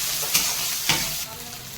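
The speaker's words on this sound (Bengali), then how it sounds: "এই কাঁচা পেঁয়াজটা দিয়ে দেবো এই কাঁচা লঙ্কা গোটা এটা আমি দিয়ে দেবো পেঁয়াজটা একটু লাল করবো" Raw onion and whole green chili frying in hot oil for a spicy crab curry, a loud continuous sizzle broken by two sharp stirring scrapes, close up and without talk.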